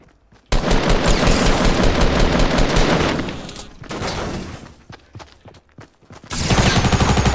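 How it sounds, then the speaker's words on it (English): Heavy Fortnite gunfire in a team match, loud sustained bursts and automatic fire that fade mid-clip into scattered single shots, then surge back into dense shooting near the end. "there's other people shooting down at us"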